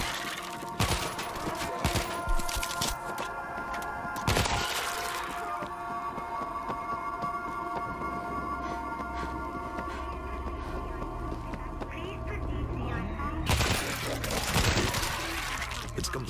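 Gunfire from the World War Z video game rings out in bursts, with sharp volleys around the start, middle and near the end over a steady in-game ambient drone, no talk.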